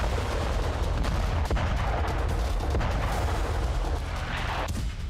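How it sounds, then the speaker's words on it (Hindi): Tank guns and artillery firing in Gaza, a dense, loud rumbling barrage of overlapping booms and sharp cracks with continuous low roar and no talking. "टैंक और तोप बारूद उगल रहे।"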